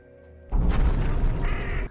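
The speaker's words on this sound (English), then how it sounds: "Oh, the old bird jump scare." A bird jump scare in a horror film bursts in after near silence: a sudden loud crow caw and flapping commotion, sharp and close, lasting under two seconds.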